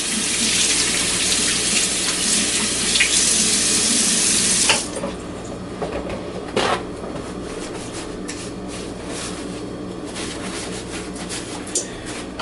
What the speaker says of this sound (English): So I'll go ahead and wash my hands up there.